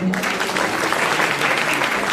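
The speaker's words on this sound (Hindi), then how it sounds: "एक बार ताली बजाएं" A crowd at an Arya Samaj annual gathering in Noida claps steadily and densely, a sustained wash of applause that starts as a voice fades at the very beginning.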